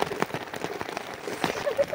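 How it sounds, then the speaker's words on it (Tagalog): Heavy rain pouring down in the Agusan Marsh, heard as a dense patter with sharper drop hits, close by, while people talk over it. "Grabing ulan mga lods, oh."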